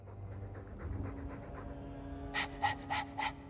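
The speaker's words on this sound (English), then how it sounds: "All that noisy dog breath, day in, day out." Dog breathing in Dragon Age II, soft panting and snuffling at first, then a run of louder, sharper breathy huffs in quick succession near the end, close by and with no voices.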